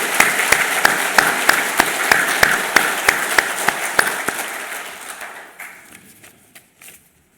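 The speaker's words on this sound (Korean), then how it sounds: "우리 영아부까지 들리도록 큰 박수로 환영하겠습니다." A church congregation bursts into loud, steady applause to welcome someone, a run of sharp regular claps that thins out and fades to a few scattered claps at the end.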